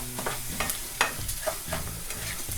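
Washed rice browning in a pan crackles and hisses as a spoon stirs it, giving repeated scraping strokes over a steady fry.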